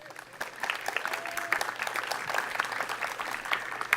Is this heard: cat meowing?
no